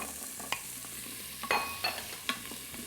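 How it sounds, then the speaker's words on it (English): Carrots and celery stalks sizzle softly in a pot while being stirred for a pot roast, a faint steady frying hiss broken by a few sharp clinks and scrapes of the spoon. "So now I'm going in with 2 carrots, 2 celery stalks."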